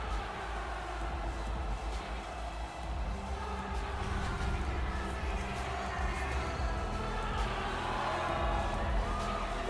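Arena crowd noise from an NHL hockey video game after a goal review: a dense, continuous roar of a loud home crowd that stays steady and full throughout.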